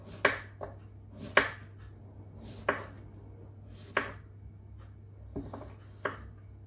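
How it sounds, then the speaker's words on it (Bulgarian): Knife cutting zucchini into slices about 5 mm thick on a board, six sharp distinct chops spaced roughly a second apart over a low steady hum, no talking. "И така режем всички тиквички."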